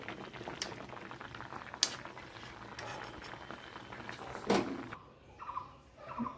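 Pointed gourds boiling in a pot of water, a steady bubbling and gurgling with a few louder pops, close by, and the boil quietening near the end, with no talking.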